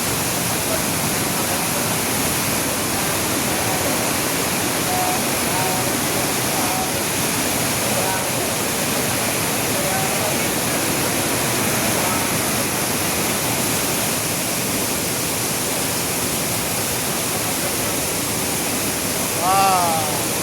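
The waterfall at Panchalingeshwar roars steadily and loudly for the whole stretch, a dense, unbroken rush of falling water close by.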